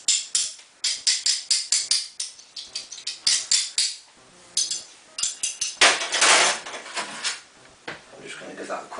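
Home-brew cherry wine being stirred, with a run of quick, sharp clinks and taps of a utensil against a container, followed by rougher scraping and rattling swirls, all close and fairly loud.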